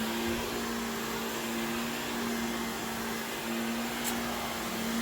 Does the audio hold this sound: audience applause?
no